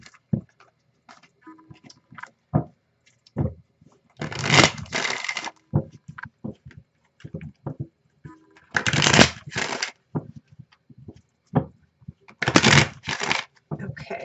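Bursts of crisp tarot card shuffling come in three main flurries, separated by quieter rustles and taps of cards being handled nearby.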